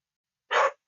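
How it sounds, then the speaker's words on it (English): A single short dog bark or yip, fairly close and moderately loud, standing alone against silence with no talking. "Sorry about the dogs barking."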